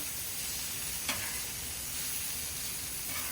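Smash burger patties sear on a flat griddle with an even, dense hiss of sizzling fat, one quick scrape of a spatula near the start, no one talking.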